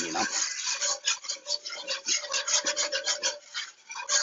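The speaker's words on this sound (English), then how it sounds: "Give that a good mix. Let that lime juice meet everybody else." Diced chile peppers tossed with lime juice in a bowl, a rhythmic series of close scraping and rubbing strokes from the mixing utensil, steady and fairly loud.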